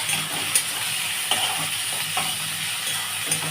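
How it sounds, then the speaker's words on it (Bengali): Onion and capsicum sizzle in hot oil with a bright, steady crackle, broken by a few soft stirring scrapes and taps at intervals, close up and with no voices. "আচ্ছা আমার এইগুলো ভাজা হবে, তারপরে আমি মাশরুমটা দেবো।"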